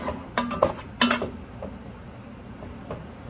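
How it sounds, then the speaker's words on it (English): Tongs scraping and clinking against a pot while beef stew is mixed with flour, a few sharp metallic clanks followed by quieter stirring. "Just mix it all together"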